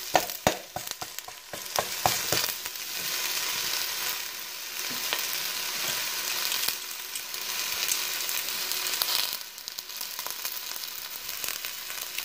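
Seared pork pieces sizzle and fry on a bed of softened onions for a braised pork humba, a steady crackling hiss with a few sharp pops and stirring clinks near the start, no talk.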